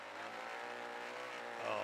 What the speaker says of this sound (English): you can hear where they keep the RPMs up right where they want them